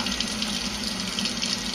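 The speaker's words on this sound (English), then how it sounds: "Wait, I'm gonna keep the water on." A kitchen tap runs in a steady, close, continuous gush of water with no voices.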